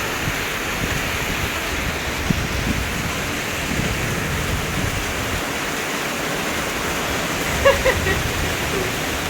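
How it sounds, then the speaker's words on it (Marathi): Steady rain falls throughout, a constant hiss of drops, with an occasional faint tap or clatter. "थोडासा पाऊस सुरू झालाय."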